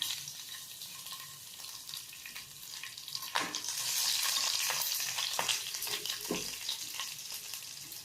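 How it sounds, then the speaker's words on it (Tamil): Mustard seeds spluttering in hot oil with green chilli and garlic added for a potato fry, a close crackling sizzle that swells midway, broken by a few sharp pops and spoon scrapes. "இப்போ கடுகு பொரிய ஆரம்பிச்சிருச்சு"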